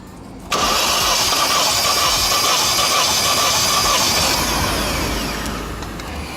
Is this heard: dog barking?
no